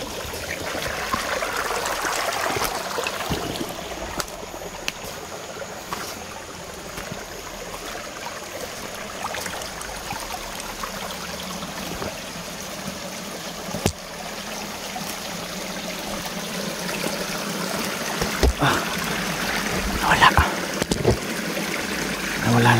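Flowing water runs steadily in a stream, a constant rushing trickle heard close up with occasional splashes and knocks, continuing alone throughout without talk.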